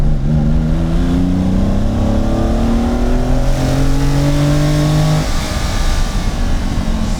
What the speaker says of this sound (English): The car is fast. It's picking up really well, even in the mid-range.